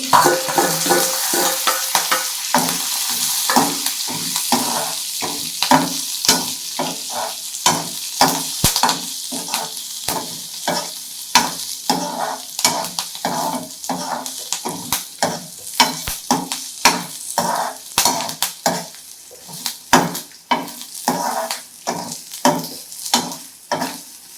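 Tamarind and other ingredients are dry-roasted in a pan for a tomato kulambu. A spoon scrapes and stirs them in a quick, repeated rhythm over a soft sizzle, close and clear with no talking.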